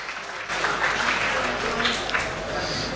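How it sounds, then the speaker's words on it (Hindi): An audience at a mushaira at a Patna hotel opening applauds to welcome a poet, a dense, steady wave of clapping from a crowd that swells after a brief start and holds for the whole stretch. "ज़ोरदार तालियों से उनका इस्तकबाल करें"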